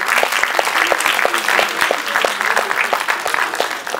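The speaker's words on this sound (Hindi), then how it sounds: "नव्या अग्रवाल के लिए एक बार जोरदार तालियां हो जाए" A large audience at an award ceremony claps loudly and steadily for an award recipient, a dense, continuous wash of hand claps with no speech over it.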